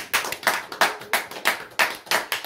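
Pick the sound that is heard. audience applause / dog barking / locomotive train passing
audience applause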